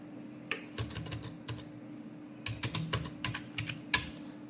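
Fingers typing on a computer keyboard in short, irregular bursts of close key clicks with pauses between them, over a faint steady hum and without any speech.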